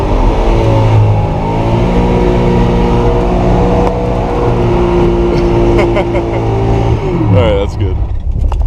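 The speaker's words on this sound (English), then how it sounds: "just pin the throttle, and don't let off till I tell you" A Camaro engine held at full throttle during a street drift, roaring loud and close with a sustained, dense rasp that barely wavers, while people talk over it.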